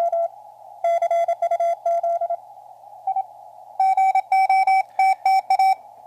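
Morse code tones pass through a Hi-Per-Mite 200 Hz wide audio filter on a small QRP transceiver build and play from a cheap speaker as clean, steady beeps. Short and long keyed bursts come in groups with gaps between them.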